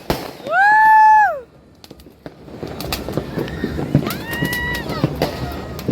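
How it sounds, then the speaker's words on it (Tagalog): Fireworks go off at a New Year celebration in the Philippines, bursting and crackling amid outdoor noise, with a loud whistling tone at the start and excited voices talking and cheering over it. "Wow, may fireworks dito, no?"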